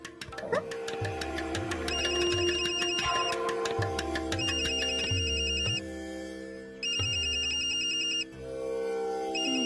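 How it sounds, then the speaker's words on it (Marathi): A telephone rings in a Marathi TV serial scene, several repeating ringtone bursts sounding clearly over soft background music, with brief gaps between rings. "विजयाचा फोन आहे."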